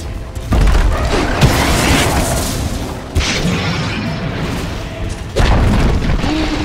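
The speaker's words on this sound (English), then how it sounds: "Dire's top tower is under attack." Heavy booming impacts in Dota 2 as the Dire's top tower comes under attack, a dense loud barrage of blasts and crashes with sharp surges at the start and near the end.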